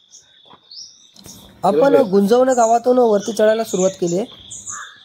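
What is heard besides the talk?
birds chirping and crow cawing on fort trek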